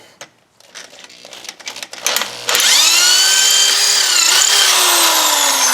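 A power drill fitted with a 1/4 inch bit starts after some quiet handling noises, then spins up into a loud, steady whining drone that holds to the end.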